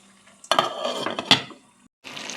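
A metal lid goes onto a pan of potato and cabbage with green chilli and tomato, a couple of clanks and scrapes over a soft sizzle, then a brief hush before the cooking noise returns.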